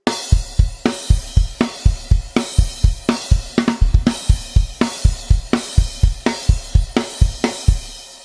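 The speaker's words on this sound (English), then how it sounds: "you've got the beat with the crashes sound like this." A loud, driving drum beat from a song with washy crash cymbals ringing on the accents over kick and snare, played steadily for several bars without any talking.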